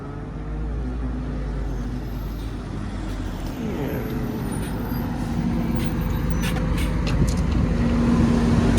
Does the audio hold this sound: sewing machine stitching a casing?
no